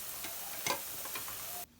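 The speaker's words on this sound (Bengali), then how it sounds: "এই যে আমার সন্ধ্যার নাস্তা ভাজা হচ্ছে" Pakoras fry in hot oil, a quiet, steady sizzle with a few soft clicks and stirring taps, heard close up with no talking, ending abruptly.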